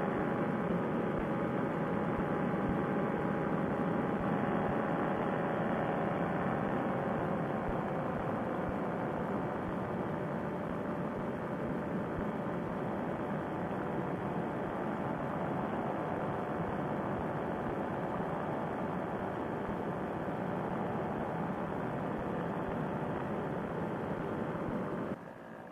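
A paramotor trike engine droning steadily in flight over the Ohio countryside, a loud, constant propeller roar with no break from start to end.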